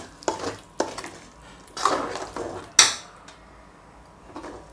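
A spoon scrapes and clacks against a cooking pot as thick ground paste is stirred into mutton curry, irregular knocks and scraping strokes with a soft sizzle underneath.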